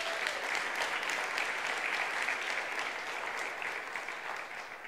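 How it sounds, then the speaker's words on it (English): A church congregation claps together in sustained, dense applause that fills the room at an even level and eases off slightly toward the end. "let's give God a round of applause if you understand what I'm saying"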